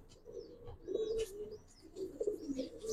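Giribaz pigeons of the Palla line, silver Giribaz birds, coo in low rolling bursts close by, the throaty murmurs swelling twice, with faint chirps above and no talking.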